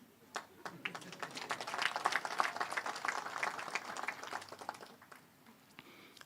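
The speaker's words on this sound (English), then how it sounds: "we clap the hands even more" Applause from an audience at a national strategic dialogue event, a dense patter of many hands clapping that swells through the middle and thins toward the end, moderately distant and with no talk over it.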